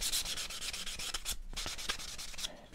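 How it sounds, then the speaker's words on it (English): Quiet, rhythmic scratchy strokes of sandpaper lightly sanding painted wood, rubbing back and forth, close and soft, repeating steadily with no voices. "I'm going to give it a light sanding"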